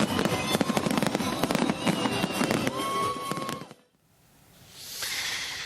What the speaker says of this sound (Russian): Завершился вечер праздничным грандиозным салютом.